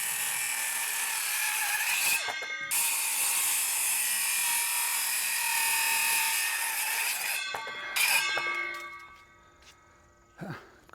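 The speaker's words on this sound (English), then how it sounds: "so to finish it, I use my reciprocating saw to finish the cut." A reciprocating saw finishes a cut through the top of a wooden garden gate post bevelled at 45 degrees, a loud, steady, high-pitched whine with brief pauses and clunks, then fading out.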